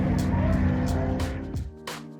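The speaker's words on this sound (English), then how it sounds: "I can hear drifting off in the distance." Cars drift at Fuel Fest in Arizona. Tyres squeal and engines rev in the distance as a steady, rough roar with bursts of higher screeching, all under a busy outdoor crowd ambience.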